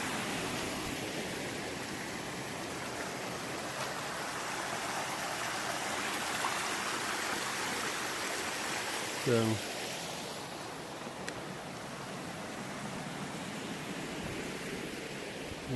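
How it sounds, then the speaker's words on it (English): A creek flowing along the Ouachita Trail near Big Brushy Creek, a steady broadband rush of running water filling the whole clip, with a brief tonal chirp partway through and a short spoken word. "I found it down the stream there this little ways."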